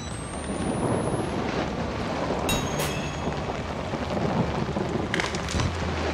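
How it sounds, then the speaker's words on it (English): Heavy rain with rumbling thunder in the Outlast horror video game, a steady loud downpour across the whole stretch with no voices. "It's raining."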